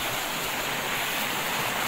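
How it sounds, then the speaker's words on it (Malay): Waterfall, a steady broadband rush of falling water, continuous and fairly close, with no talking heard. "air terjun baru kawan-kawan"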